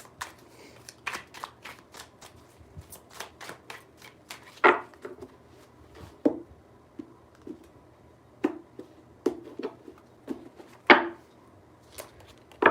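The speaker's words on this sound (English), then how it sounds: "Three shuffles for Pisces, please." Tarot cards are shuffled by hand in a series of crisp riffling bursts and sharp taps, clear and close, with short quiet gaps between them and no talking.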